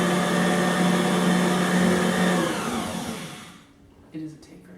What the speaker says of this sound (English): So turn your mixer on and blend the flour and the margarine together until they're crumbly.